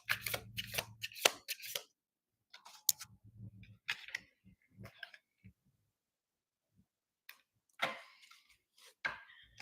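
A large deck of cards being shuffled up close, with quick crisp riffling bursts and taps separated by short silences.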